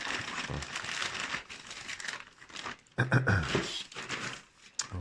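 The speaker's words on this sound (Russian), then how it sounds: "Ох, красивый такой пакетик от Бердыка" Crinkling plastic rustles steadily close by, with tearing and crunching bursts as a knife's delivery package is handled and opened.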